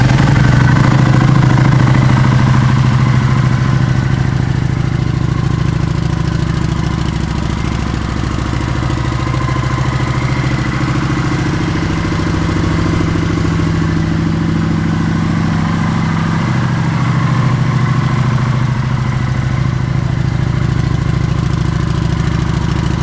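A 2016 Kawasaki Vulcan 900 motorcycle engine runs at a steady, loud idle close by, a deep low rumble with light mechanical clatter, holding even throughout with no talking.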